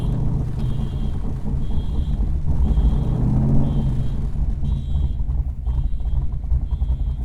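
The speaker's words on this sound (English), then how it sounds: "there's Jay pulling out in a Countach" A Countach replica car pulls out with a low, rumbling engine note that stays fairly close and steady throughout, with a faint periodic high beeping heard over it.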